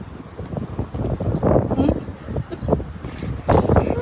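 Gusty wind buffets the microphone in rumbling bursts while people talk and exclaim nearby.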